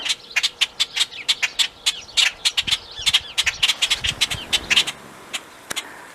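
Agitated wild birds squawk and chirp repeatedly in trees, many sharp loud calls in quick irregular succession that thin out toward the end.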